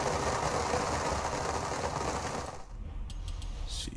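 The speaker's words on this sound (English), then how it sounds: "trying to put turbos and anti-lag on this engine just to see what it sounds like" A turbocharged AMG engine fitted with anti-lag roars loudly and steadily in Forza Horizon 5, then drops off abruptly near the end into quieter idle with sharp crackling pops.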